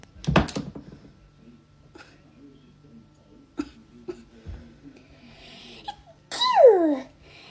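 A girl sneezes after a nasal swab test: one sharp, close sneeze bursts out at the start, then quiet sniffles and breaths, and a brief high squeal near the end.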